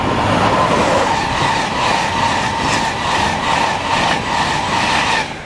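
A Class 91 Virgin Trains East Coast service passes through Stevenage on the East Coast Main Line, a loud, continuous near roar of wheels and carriages with a faint rhythmic clatter throughout.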